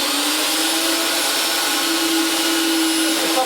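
A Wheeler-Rex 8090 pipe reaming and threading machine running steadily, a loud constant motor whine with a strong steady hum tone, no breaks or changes.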